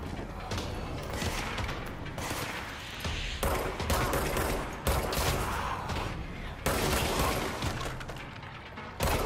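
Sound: shotgun firing in the video game Control

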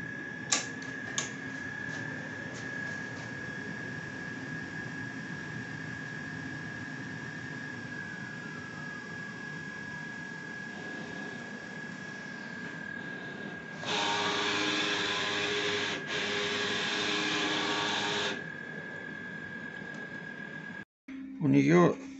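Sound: Mutoh Valuejet printer running a nozzle test

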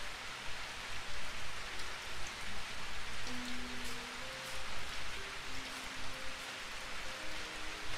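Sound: rain

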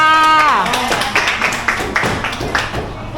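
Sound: class clapping for themselves

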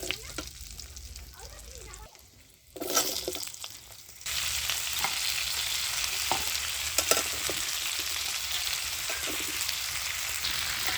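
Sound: potatoes and eggplant frying and being stirred in a pan

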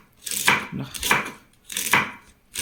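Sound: knife chopping taro stalks into small pieces

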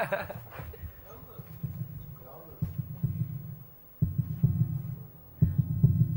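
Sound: heartbeat sound effect played on TV show

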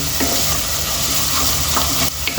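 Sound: onions frying and being stirred in a pan

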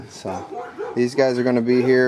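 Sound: dogs barking

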